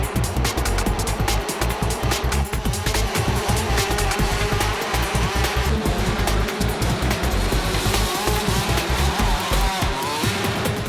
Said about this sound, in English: Race 2 sees Steven overtake his former idol Danny Tolley to leave him in a cloud of smoke and take the top spot once again